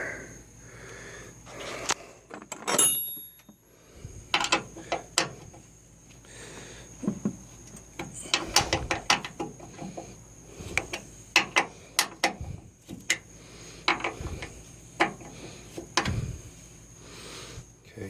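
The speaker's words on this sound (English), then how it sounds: "use the T50 Torx to remove the cable bolt, which is right there" A T50 Torx driver ratcheting out a tailgate cable bolt on a 2014 Ford F350 Powerstroke, repeated close clicking ratchet strokes in irregular bursts with metallic handling noises in between.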